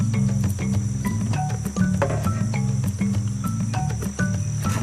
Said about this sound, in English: First, they need to catch the bait, jungle crickets.